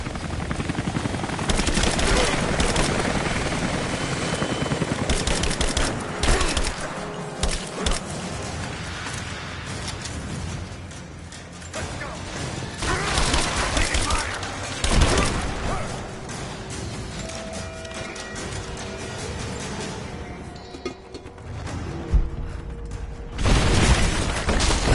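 Shotgun fire in Rise of the Tomb Raider, repeated loud blasts spaced irregularly through a dense, noisy combat soundscape full of mechanical clatter and rumble.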